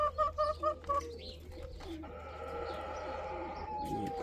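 Several soft, rhythmic coos from a turtle dove close by, then quieter background noise with a faint chirp near the end.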